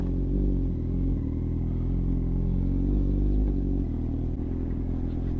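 A Kawasaki Z800 motorcycle engine rumbles steadily at low pitch, idling or cruising close by with a constant drone and faint mechanical clatter, no voices.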